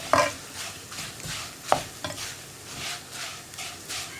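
Flattened rice (aval) frying in hot oil while being stirred, a soft steady sizzle with occasional sharp scrapes of the stirring utensil against the pan, close by and with no talking.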